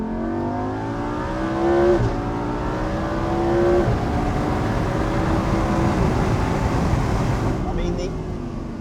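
A Lamborghini Huracan's naturally aspirated engine revs and accelerates hard, its loud rising whine climbing through gear shifts close by, with a voice talking over it.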